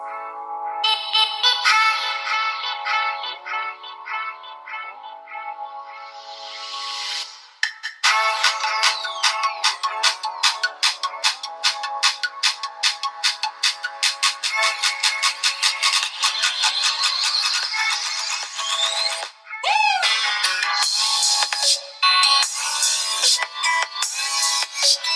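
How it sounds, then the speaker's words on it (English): A tinny ringtone-like melody plays loudly from the small internal speaker of a LOKMAT Comet 3 sports smartwatch. It runs continuously and alone for the whole stretch, with a brief dip partway through. "Let's quickly check the internal speaker sound quality."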